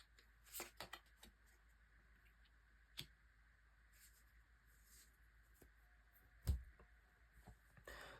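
Tarot cards are shuffled and drawn at a quiet table: soft riffling bursts early on, then sparse light taps and card snaps, with one sharper slap near the end.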